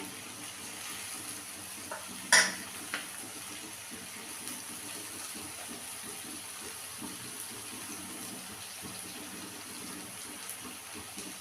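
Quiet, steady frying hiss of lote fish (Bombay duck) in a wok-style pan, with one sharp clink early on and faint crackles throughout.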